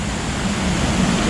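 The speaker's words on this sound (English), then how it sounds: "So one more view of the horseshoe type waterfall" A horseshoe-shaped waterfall pours in a steady, dense rushing roar, close and loud, with no pauses or other sounds over the brief stretch.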